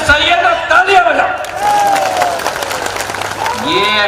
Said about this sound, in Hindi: अरे सही है तो तालियां बजाओ